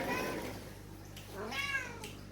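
A Turkish cat lets out a soft, drawn-out meow and then a second rising-falling meow, close by indoors against a quiet background hum.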